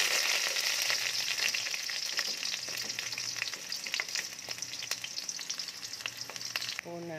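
Onion sautés in a hot pan with a constant bright sizzle and scattered crackles, close and fairly quiet, with a short clatter near the end.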